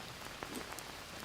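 Rainfall on foliage in the VR survival game GHVR makes a soft, uniform pattering wash with a few louder drop taps, quiet and continuous, without speech.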